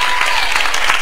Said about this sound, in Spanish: un fuerte aplauso también para Miguel Chamizo